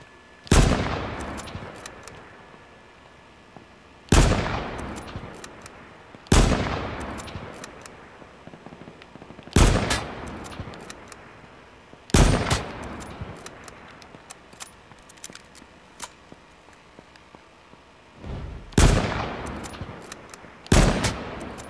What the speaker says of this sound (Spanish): desde aquí les vamos dando unos buenos balazos.